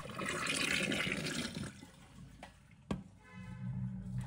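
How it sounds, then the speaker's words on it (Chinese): Murky soaking water from pork ribs pours out of a tilted kitchen basin, a steady splashing gush for about a second and a half that trails off, followed by a single sharp knock and quieter running water. "将盆倾斜，把脏水缓缓倒掉"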